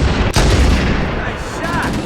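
Stationary gun turrets blast away in Halo: Combat Evolved Anniversary on the Truth and Reconciliation level, a dense roar of loud, continuous gunfire and booms with one sharp burst near the start, voices calling out amid the battle.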